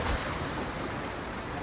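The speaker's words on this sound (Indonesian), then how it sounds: "Kami sekarang ada di pantai selatan Karanghau" Ocean waves roll in on the south coast beach at Karang Hawu, Sukabumi, a steady broadband wash of surf mixed with wind buffeting the microphone.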